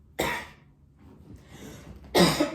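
Two harsh, close coughs from a man with a lingering month-long cough, separated by a pause with a softer throat-clearing rasp in between.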